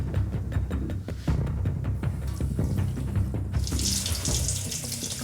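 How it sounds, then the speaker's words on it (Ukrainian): Tap water pours steadily from a faucet into a sink, a continuous splashing rush that brightens and hisses louder toward the end, with no voices. "Перед забором вода вільно спускається протягом 15 хвилин."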